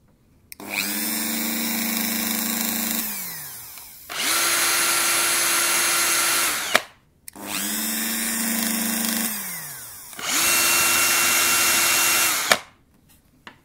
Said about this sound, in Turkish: herkesin, birçoğunuz evinde bulunabilecek şarjlı matkap.